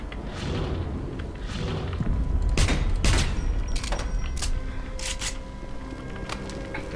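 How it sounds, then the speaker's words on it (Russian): Wolfenstein video game combat with bursts of gunfire and heavy thuds and booms, loud and close, rattling in irregular volleys over a rumbling background. "Продолжать стрельбу!"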